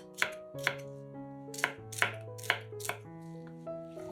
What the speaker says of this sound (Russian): Нарезаем перец произвольными кусками